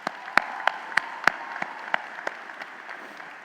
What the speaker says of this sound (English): Graduates, how about a round of applause for the family and friends here?